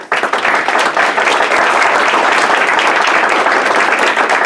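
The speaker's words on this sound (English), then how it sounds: "let's take a moment and just give all of our speakers a round of applause" Applause from a career-night audience honoring the speakers, a dense, sustained wash of many hands clapping at close range, steady and loud throughout with no gaps.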